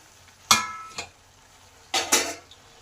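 Potatoes and eggplant are stirred in a cooking pan with peas and onion greens. Two short bursts of clattering scrapes sound close and fairly quiet, with no voices.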